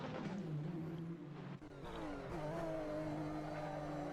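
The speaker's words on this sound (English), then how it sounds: "On board with Ruiz, you can actually hear the tyre scrub there as he comes through the International Horseshoe" On-board sound from a race car in a virtual 24-hour sim race, cornering through the International Horseshoe: a loud, steady engine drone with layered harmonics and tyre scrub beneath it, with a brief dip in the middle.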